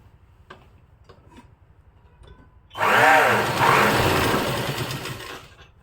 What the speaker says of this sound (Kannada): ಇಲ್ಲಿ ಮೇಲ್ಗಡೆ ಒಂದು ಸ್ಟಿಚ್ಚನ್ನು ಹಾಕ್ಕೊತೀನಿ